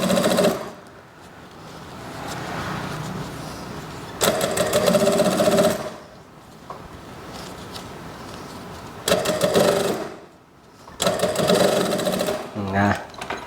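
A sewing machine stitches the folded hem of a jeans back pocket in several loud, fast mechanical bursts of whirring needle strokes, separated by pauses in which a person speaks.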